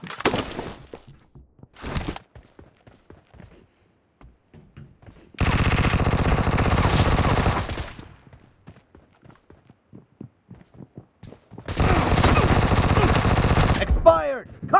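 Automatic rifle fire rattles in two long, dense bursts inside a PUBG Mobile match, separated by scattered single shots and quieter game sounds, loud and close.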